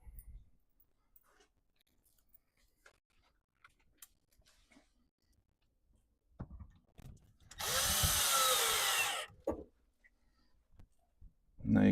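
After quiet clicks and handling noises, a power drill with a long bit attachment spins up close by and drives a screw in one burst lasting under two seconds, during a Fulgor Milano/Fhiaba appliance installation.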